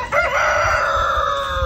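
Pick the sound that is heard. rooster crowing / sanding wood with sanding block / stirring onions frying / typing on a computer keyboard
rooster crowing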